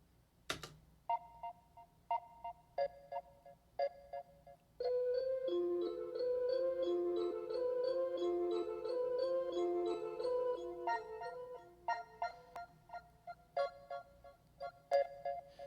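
Clean guitar with a pitch pedal adding a little octave for extra brightness: plucked single notes at first, then a sustained chordal swell that slowly fades, followed by more plucked, ringing notes, quiet and alone.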